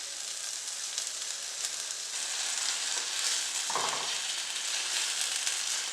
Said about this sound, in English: We are going to cook the meat until it becomes tender and well cooked.